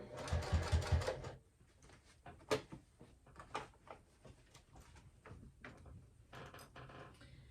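A sewing machine stitching a fabric clutch runs in a loud rapid burst at first, then gives short quieter bursts of stitching with brief pauses and small clicks between them.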